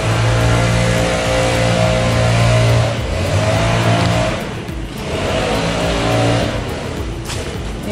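An outdoor leaf blower in a Myrtle Beach shopping area runs as a loud, close, continuous engine drone that dips slightly midway, then holds steady.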